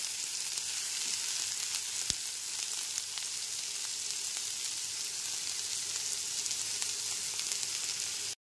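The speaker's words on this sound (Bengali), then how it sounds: "গ্যাসের ফ্লেমটা এখানে লোতে রেখেই পেঁয়াজ কুচিটা ভেজে নেব।" Chopped onion fries on a low gas flame for chirer pulao, a steady close hiss of sizzling oil that holds evenly throughout with a faint clink partway, then cuts off abruptly at the end.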